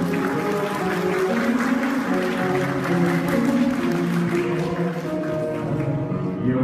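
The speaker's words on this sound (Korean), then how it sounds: "축하의 박수 부탁드립니다." Wedding guests applaud through a steady, sustained wash of clapping that fills the space at moderate loudness, with a sustained musical tone running underneath.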